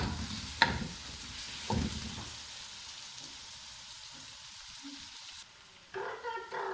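Potatoes and aubergine with spices are stirred in a hot pan, the sizzling broken by a few sharp spoon knocks and scrapes, close and without talk.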